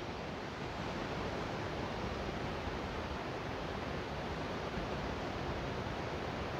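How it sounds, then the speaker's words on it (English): Continuous roar of ocean surf in Israel, a steady broadband wash of breaking waves with no pauses, moderately loud and without voices. "listening to the beautiful sound of the waves behind us"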